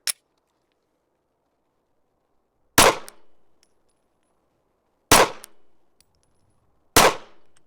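Four sharp pistol reports from a Glock 43 handgun at an outdoor range, one at the start and three more spaced a couple of seconds apart, each loud and close with a short decaying tail.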